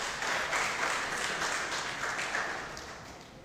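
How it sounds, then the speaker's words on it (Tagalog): Steady, dense applause from a church congregation after a closing prayer, a continuous wash of many hands clapping at even loudness throughout without any voices. "Palakpak ulit."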